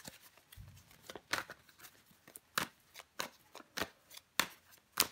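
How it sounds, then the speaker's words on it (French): Tarot cards handled, slid and flipped over on a table: a string of crisp, close slapping and snapping card sounds at irregular intervals, fairly quiet, with no talk. "On va recouvrir des cartes."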